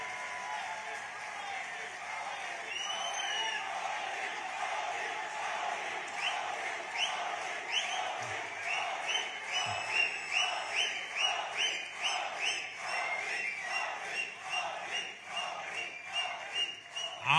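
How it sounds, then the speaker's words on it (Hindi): A large audience of Indians in Nigeria applauding and cheering during PM Modi's address, a steady wash of clapping with scattered whoops that swells in rhythmic bursts toward the end. "आपने ताली तो बजा दी"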